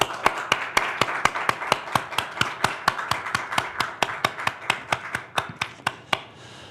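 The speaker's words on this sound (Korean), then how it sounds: "우리 한번 크게 격려의 박수를 드리면 좋겠습니다." A church congregation at a Korean Sunday worship service claps in steady unison, roughly two dozen crisp, evenly spaced claps in a quick rhythm that stop abruptly, with no talk over them.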